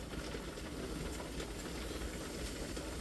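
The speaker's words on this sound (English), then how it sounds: "You can see you got a steady flow of steam coming out of there." Steady, continuous hiss of steam escaping from a pressure cooker with a 10-pound pressure regulator weight, used for canning venison, heard up close and loud throughout without pause.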